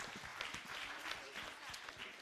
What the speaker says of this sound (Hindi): एक बार सलीम साहब के लिए जोरदार तालियां